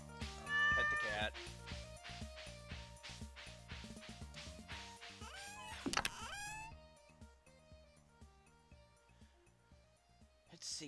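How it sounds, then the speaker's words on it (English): A cat in Stardew Valley meows after being petted, short tonal mews set against light game music and chimes, with a brief louder burst midway. "Pet the cat."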